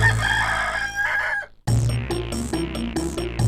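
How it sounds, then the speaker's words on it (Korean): A rooster crows loudly up close, a short burst, then a second crow with clucking follows after a brief pause. "수탉이 시끄럽게 울자"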